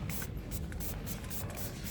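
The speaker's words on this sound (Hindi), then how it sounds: "इस पर मारते हैं स्प्रे, ये वाला।" Cleaner is sprayed onto a dirty KTM 390 Adventure motorcycle in a run of short hissing bursts over steady background noise.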